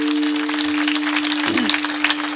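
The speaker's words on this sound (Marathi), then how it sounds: "खणखणीत टाळ्या वाजवा" A kirtan audience claps steadily, producing a dense, even patter of hands under a faint sustained tone, continuous for the whole moment.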